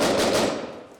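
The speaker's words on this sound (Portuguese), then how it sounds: "soldados israelenses sendo recebidos a pedradas e revidando com tiros" Rapid gunfire rattles in a loud, dense burst as Israeli soldiers shoot at a refugee camp in Hebron. The burst fades out and a fresh sharp shot follows at the end.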